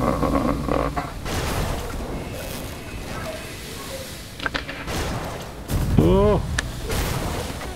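Enemy fire in the video game Grim Dawn, dense bursts of shots and impacts at moderate loudness, with a voice speaking over the combat noise.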